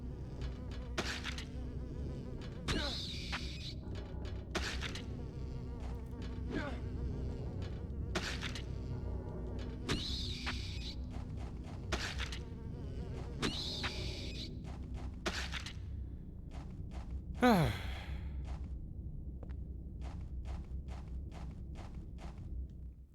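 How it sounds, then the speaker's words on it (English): Bird-like flying creatures in Silent Hill 4: The Room give off a steady insect-like buzz, like large bees. The buzzing drones continuously under a series of sharp rhythmic thuds and clicks, with one brief swooping tone near the end. "they do have the look of birds, yet they sound like big bees"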